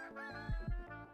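Cartoonish rooster crow from the game Super Auto Pets, a short harmonic call with two quick low-pitched pulses in the middle, heard alone and fairly close over a brief moment.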